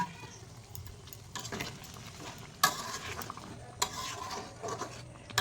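Chicken curry is stirred in a pot after hot water is poured in, with soft scraping and clinking strokes against the pan, quiet and close, with occasional sharper knocks and no talk.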